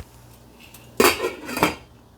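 A lid goes onto a pot of simmering fish mulligatawny soup, a sharp close metallic clank followed by a brief second rattle as it settles.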